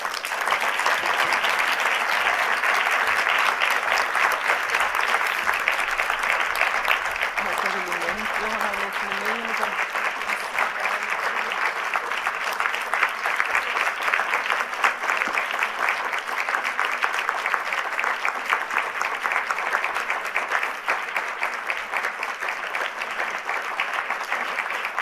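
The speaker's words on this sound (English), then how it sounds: "could we clap a little bit more" A forum audience at a women leaders' event in Reykjavík gives long, sustained applause, a dense wash of many hands clapping steadily and loudly; a voice briefly speaks over it partway through.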